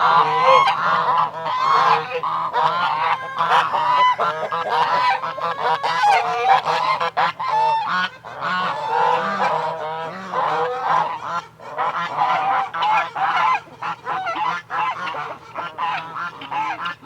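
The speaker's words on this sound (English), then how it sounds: "Stupid geese." Geese honking loudly and continuously around a farm chicken coop, a dense, overlapping flock of calls close by with no talk.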